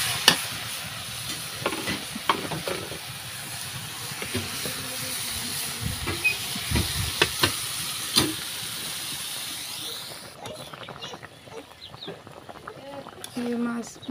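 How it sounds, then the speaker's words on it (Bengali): Fish frying bhuna-style with spices in a pan gives a soft, steady sizzle with scattered stirring scrapes and clinks; a voice speaks intermittently over it and the sizzle quietens near the end. "মাছ বুনা করতেছি"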